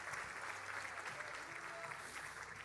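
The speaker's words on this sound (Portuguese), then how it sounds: "Você pode dar um aplauso ao Senhor?" A church congregation claps steadily throughout, a dense wash of applause with a faint voice under it.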